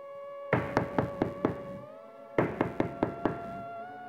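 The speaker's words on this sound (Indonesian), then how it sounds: "Suara ketokan pintu muncul kembali." Knocking on a door: two sharp bursts of about five evenly spaced raps each, separated by a pause, loud and close against a faint steady hum.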